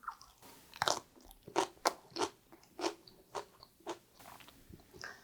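Someone chews a lettuce wrap topped with ssamjang and green garlic, giving close, crisp crunching bites in an irregular rhythm of about a dozen distinct crackly chews with quiet gaps between them.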